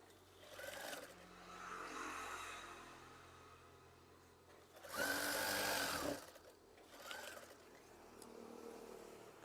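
A sewing machine stitches curtain fabric in short, faint bursts, with one louder, steadier run in the middle and quieter whirring passages around it, no talk.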